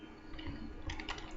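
A few soft keystrokes tap on a computer keyboard while entering a formula in a spreadsheet, faint and close, with a quiet background hum and no talk.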